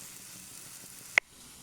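Eggplant frying and softening in a pan gives a faint, steady sizzle, broken by one sharp click or pop near the end.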